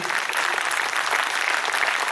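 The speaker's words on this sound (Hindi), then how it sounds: "हम परमेश्वर पिता को ताली बजाकर धन्यवाद देंगे। कम ऑन, जोरदार ताली।" Loud, dense applause from a church congregation at a New Year's worship service fills the whole stretch, steady and close with no voices above it.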